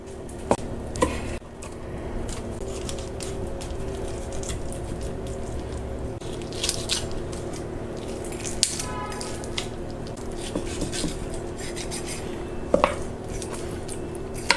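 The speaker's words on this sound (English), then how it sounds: "For this, of course, I need to separate the meat from the bone." Cooked chicken meat is pulled from the bone by hand for meatballs, with soft wet squishing, tearing and occasional clicks against a dish running steadily up close.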